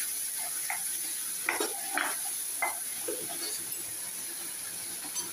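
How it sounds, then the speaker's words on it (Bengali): Spiced masala and tomato sauce sautéed for noodles in a pan, with a soft steady sizzle and a few scrapes and clinks of a spoon stirring against the pan at close range. "প্রথমে একটু আমি মশলাটা কষিয়ে নেব।"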